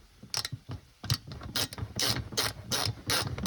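A ratchet clicks in quick bursts, tightening bracket bolts at the roof rails of a 4x4 Mercedes Sprinter van for a Fiamma F45S awning, close and crisp, with repeated short ratcheting strokes.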